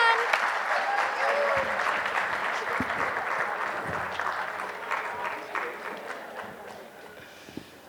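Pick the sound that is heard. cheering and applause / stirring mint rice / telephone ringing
cheering and applause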